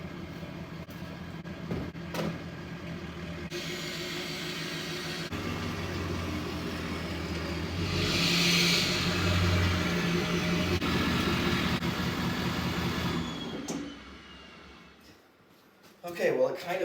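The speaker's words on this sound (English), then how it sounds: "I'm going to back it in and try to get it on flat ground" A 6.7 Powerstroke diesel pickup with a driveline vibration from a bad centering yoke backs slowly into a garage, its engine a steady low rumble that swells briefly midway, then drops off near the end before a short burst of noise.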